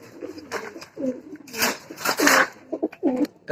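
Pigeons coo repeatedly nearby, soft throaty calls overlapping in an uneven rhythm amid light rustling.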